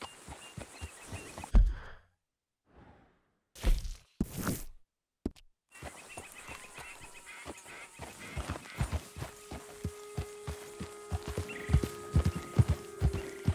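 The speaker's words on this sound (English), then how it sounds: "That's a good horse." Horse hooves clip-clop in Red Dead Redemption 2, a run of close, distinct steps that breaks into gaps and bursts, then returns as a steady walking beat with faint background noise.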